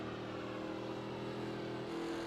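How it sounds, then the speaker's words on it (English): Engine of a 1987 NASCAR Legends stock car in iRacing at Homestead Miami, a steady low droning roar held at an even pitch throughout, fairly quiet and with no talk. "I hear a car to the inside."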